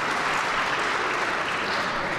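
Steady applause from an audience at a city awards ceremony, dense and even clapping filling the whole stretch with no pauses.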